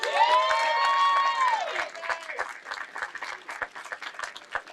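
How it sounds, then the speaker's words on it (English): A crowd at a Saturday morning forum applauds an honoree who just turned 80, opening with a loud whistle and cheers over dense clapping that thins toward the end. "give him a round of applause"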